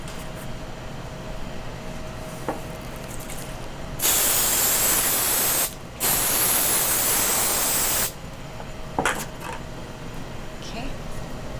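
Food hits a hot pan in a home kitchen and breaks into a loud, steady sizzle that runs about four seconds, drops out briefly, then returns, with quieter kitchen noise and talk around it.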